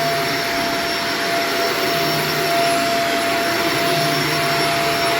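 A vacuum cleaner runs steadily over carpet, a loud continuous motor roar with a high whine, close and unbroken throughout.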